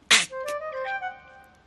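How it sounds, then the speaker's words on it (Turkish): A single sharp, close sneeze bursts out, followed by a brief nasal trailing sound and faint voiced tones fading away. "Neydi o ses orada? Hapşırdın sen."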